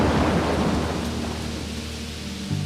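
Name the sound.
heavy rain and thunderstorm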